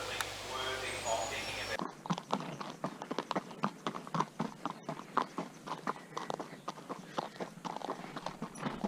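A young racehorse filly's hooves clip-clop in a steady, even walking rhythm during road work, close and distinct, after a brief opening stretch of people talking.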